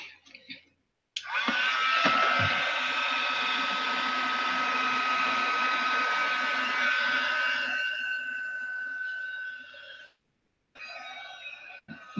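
A hair dryer blows steadily and loudly on an art journal page for about nine seconds, then shuts off, leaving a short pause before a brief restart.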